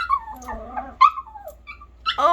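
Small dog whimpering and yipping up close, a few high whines and short yips in a quiet room, with brief gaps between them.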